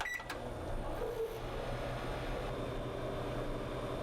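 A microwave oven running with a steady low hum and faint electrical whine throughout, a couple of brief clicks at the very start, no talking.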